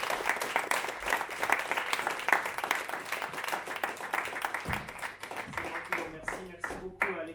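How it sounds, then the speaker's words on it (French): Warm audience applause rings out for a speaker at an evening conference, dense sustained clapping that tapers off near the end, with a voice briefly speaking over it. "Je vous invite à l'applaudir chaleureusement."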